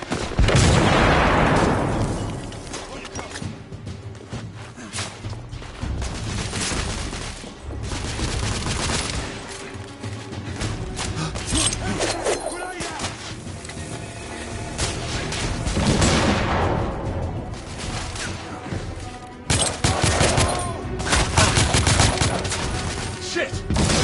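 Heavy gunfire in the video game The Order: 1886: dense, continuous bursts of rapid shots and booming blasts that stay loud for the whole stretch, with a few heavier surges toward the end.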